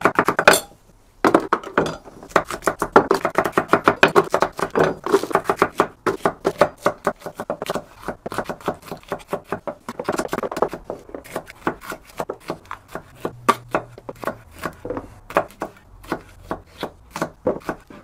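Peppers roughly chopped for a big batch of fermented hot sauce: rapid, steady knife strikes on a cutting board, crisp and close, continuing in a fast rhythm with a brief pause near the start.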